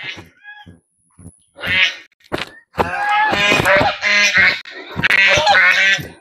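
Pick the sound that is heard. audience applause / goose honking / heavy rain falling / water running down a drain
goose honking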